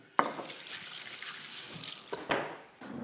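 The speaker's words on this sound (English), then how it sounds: "let's wash my hands" Hands being washed under a running kitchen sink tap, a steady broadband water rush with a sharp splash at the start and another surge near the end as the flow shifts.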